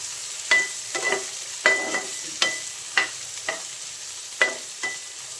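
Vegetables being lightly roasted in a pan for seviyan, with a sizzle underneath and a spoon stirring and scraping in sharp, irregular strokes roughly every half second, close and clear with no talking.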